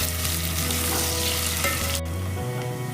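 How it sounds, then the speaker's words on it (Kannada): Onions frying in hot oil, a dense, loud, continuous sizzle close by that cuts off abruptly near the end, leaving a low hum. "ಎಣ್ಣೆ ಕಾದಿದೆ. ಈರುಳ್ಳಿ ಹಾಕೋತಾ ಇದ್ದೀನಿ. ಸ್ವಲ್ಪ ಬ್ರೌನ್ ಬರೋ ತನಕ ಫ್ರೈ ಮಾಡ್ಕೋಬೇಕು."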